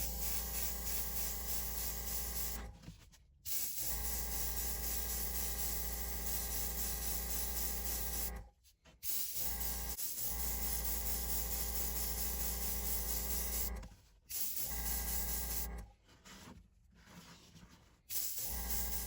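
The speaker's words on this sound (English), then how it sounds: "I did thin it down pretty thin so it can spray through the gun" Spray gun spraying thinned gray Createx paint on a 1/64 scale model, a steady hiss in several long bursts separated by short pauses.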